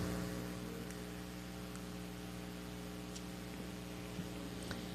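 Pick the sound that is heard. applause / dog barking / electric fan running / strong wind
electric fan running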